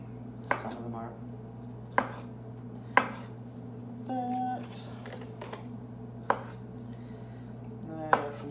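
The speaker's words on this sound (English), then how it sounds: "Some of these tomatoes are big, so I'm cutting them in half and then in half again" A knife cuts big tomatoes in half and then into quarters on a board, giving sharp, close chops spaced about a second apart over a steady low hum.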